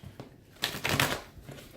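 Tarot cards are shuffled in soft papery bursts, a few brisk riffles and slides close by with no talk.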